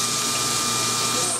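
A Pinnacle QV-137 geared-head drill press with a beltless gear drive runs in high gear at 1800 RPM, drilling a 0.531-inch hole: a steady, fairly quiet mechanical whir with a faint whine, constant throughout with no pauses.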